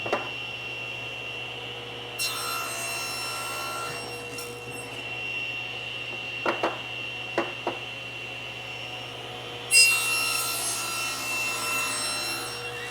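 Machine cutting of wooden chair arm shoulders with a 1/4 inch taken off one side against a fence; a steady tool whine runs throughout, with two louder bursts at start and end and a few short knocks in between.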